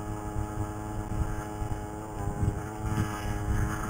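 A CAG 49cc scooter-style pocket bike engine held at about half throttle, around 3,100 RPM, drones steadily and close by, a continuous buzzing hum with no pauses or talk.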